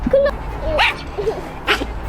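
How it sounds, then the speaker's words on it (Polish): A small dog barks and lets out high whimpering yips in short bursts, close by, with a few soft sounds between the calls. "Popatrz. piesek."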